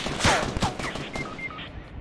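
Gunfire in a video game: a short burst of several sharp shots in quick succession, moderately loud, followed by fainter clicks and small electronic tones, with no talking.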